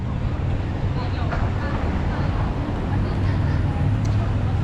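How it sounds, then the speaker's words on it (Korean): Steady wind rushing past the microphone while cycling on an e-bike downhill through Seoul streets, a loud, continuous low buffeting roar with no letup. "시원한 바람만 있어요"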